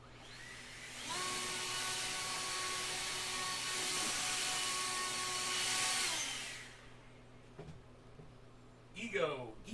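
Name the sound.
Ego cordless leaf blower running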